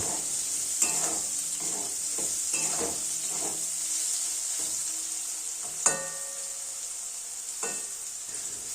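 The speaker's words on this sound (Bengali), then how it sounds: "সমস্ত উপকরণ নাড়াচাড়া করে বেগুনের সাথে মাখামাখি করে নেব" Eggplant being stirred with turmeric and salt in a pan, a spoon scraping and clinking in irregular strokes over a steady sizzle, with a couple of sharper knocks against the pan.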